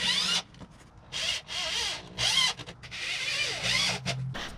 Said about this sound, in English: just gonna get the rest of my self-tappers and we're just gonna drill that bitch in